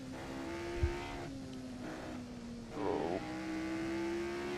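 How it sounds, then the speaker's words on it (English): A race car at Goodwood, driven in a lap attempt, brakes hard into a corner, its high engine tone dropping as the tyres lock up with a brief squeal, then the engine picks up again under steady wind noise. "Locking up and lost a lot of time there."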